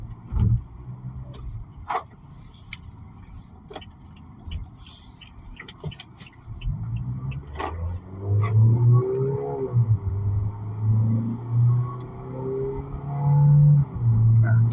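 A 2022 Toyota Innova 2.0 Entry on a test drive, heard from inside as a low engine rumble that rises and swells in pitch as the car accelerates and shifts gears, with occasional clicks.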